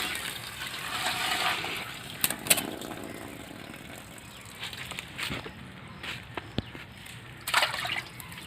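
Raw chicken pieces are washed by hand in fresh water for a village-style spicy chicken gravy, with soft sloshing and trickling broken by a few brief splashes, quiet and close.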